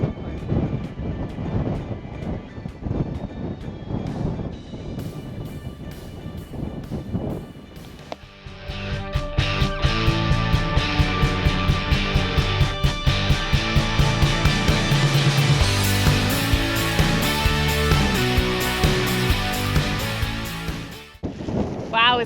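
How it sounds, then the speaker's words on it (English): Strong wind buffets the microphone at a high mountain overlook in Mesa Verde National Park, a loud continuous roar that builds and rumbles with steady gusts throughout. "Wow, is it windy up here."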